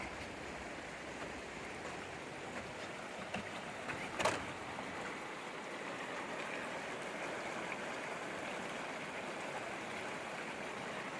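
Panther Creek on the North Umpqua Trail rushes and burbles steadily in a continuous, even wash, with one brief louder splash partway through.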